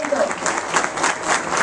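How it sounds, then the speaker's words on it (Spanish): An audience at an award ceremony gives a brief, steady burst of applause, moderately loud and continuous, with some voices mixed in. "Y yo quiero pues un aplauso que se escuche, que sirva de motivación, que sirva de reconocimiento."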